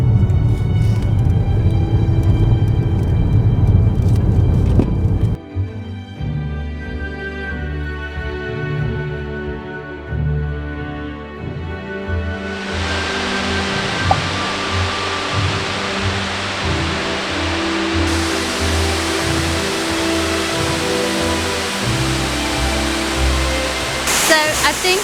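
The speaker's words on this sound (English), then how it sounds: "The water's overflowing, it's just a sight to behold." Water pouring over the overflowing Craig Goch Dam in the Elan Valley, Wales, gives a loud, steady broadband roar that runs the whole way through, with low rumbling at the start and brighter, fuller rushing later on.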